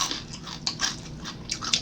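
Close crisp crunches of biting into crunchy fried fish, several quick bites with chewing noise in between.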